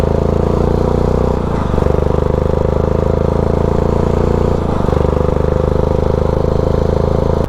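A riding lawn mower engine drives through town, a loud, close, steady mid-pitched drone with a buzzy rattle and brief dips in revs.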